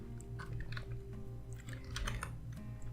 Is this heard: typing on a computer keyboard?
yes